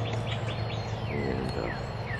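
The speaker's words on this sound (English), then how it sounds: "At least 3 species of sparrows are here all the time." Several sparrow species chirping outdoors, with a run of short repeated chirps early on and a few sweeping call notes later, all over a steady low background hum.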